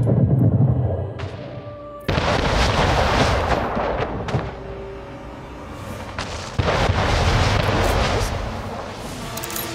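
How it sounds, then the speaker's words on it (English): Cannon fire during a ship attack in the video game Anno 1800: several heavy booming blasts with rumbling decays, some overlapping in quick succession, loud and close. "Ship under attack."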